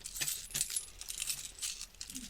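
Coins handed over as change after a payment, heard as faint, scattered metallic clinks and jingles over a soft background hiss.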